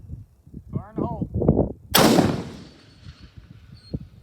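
A single sharp rifle shot from a Bergara B14 Wilderness Terrain in 6.5 Creedmoor cracks loudly outdoors at a long-range shooting session, its blast tail fading over a second or two after a voice calls out just before it.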